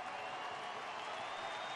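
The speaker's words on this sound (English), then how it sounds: "And the big crowd, they're up and at him" A big baseball stadium crowd roars and cheers in the ninth inning with two out, a steady dense wash of noise holding at even loudness throughout with no break.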